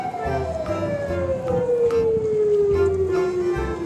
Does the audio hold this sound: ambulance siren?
yes